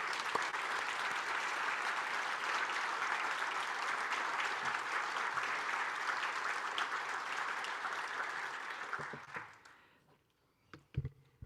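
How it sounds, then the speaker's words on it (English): A large audience at a livestreamed event claps for staff in sustained, even applause that holds for about nine seconds, then thins out and stops, followed by a few close knocks. "Could we give those staff a large round of applause,"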